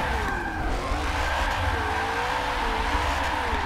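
Simulated car drifting in a racing game played on a Logitech G920 wheel, engine held high near redline with a wavering whine over continuous tire squeal, steady and prominent throughout.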